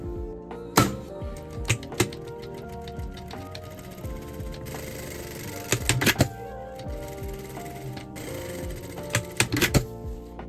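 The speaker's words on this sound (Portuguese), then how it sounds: "agora a gente vai passar uma costura aqui e aqui, prendendo as 3 camadas de tecido" A sewing machine runs in stitching bursts through three layers of fabric with acrylic batting for a cosplay bow, its rapid mechanical clatter close and loud, starting and stopping with brief pauses and no talking.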